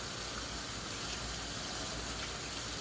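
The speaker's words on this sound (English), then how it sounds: "I'm going to rinse it off a little bit" Something rinsed under a running kitchen tap, a steady close gush of water that runs unbroken throughout, with no talk over it.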